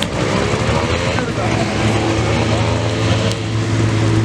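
A motorcycle engine droning steadily as a first-time rider pulls away, a continuous buzzing hum with a rising tone, close and loud, with people talking over it.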